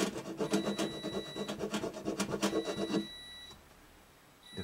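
A small file rasps back and forth in the nut slots of a Martin D-28 acoustic guitar, making quick rhythmic scraping strokes for about three seconds before it stops, leaving faint room noise and a high electronic tone.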